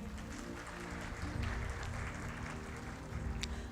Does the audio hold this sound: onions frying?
no